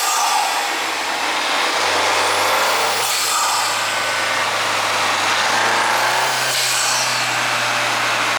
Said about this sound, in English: let's go and fire the car back up, and let's hear this intake with the fans off